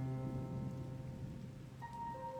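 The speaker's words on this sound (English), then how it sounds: "a heavy rain started pouring all around this old house in the country" Heavy rain pouring around an old country house, a steady wash of hissing downpour under sustained tonal music, even and unbroken throughout.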